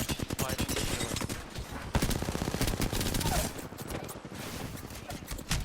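Dense, rapid gunfire rattles in a video game: continuous automatic bursts close and loud for several seconds, thinning slightly near the end, with a voice faintly mixed underneath.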